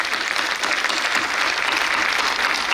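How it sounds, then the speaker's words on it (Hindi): Steady, dense applause from an audience at a musical performance event, loud and continuous throughout with no voices over it. "एक बार 15 अगस्त और 26 जनवरी वाले जोश से तालियां फिर से होनी चाहिए"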